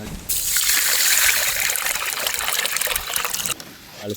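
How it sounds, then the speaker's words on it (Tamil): Rice and split moong dal being washed in water, a steady close trickle and splash of pouring, swirling water for a few seconds that stops abruptly near the end. "இது ரெண்டையும் ஒன்றா சேர்த்து ஃபஸ்ட்டு கழுவிக்க போகிறோம்."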